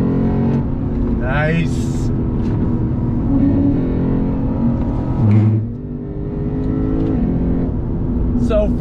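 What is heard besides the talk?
2021 Lexus RC F Fuji Speedway Edition engine revving on downshift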